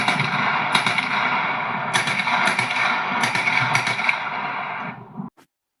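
A gunshot sound effect is played during a sound-guessing game. Rapid bursts of gunfire crackle over a dense, noisy bed, then cut off abruptly near the end.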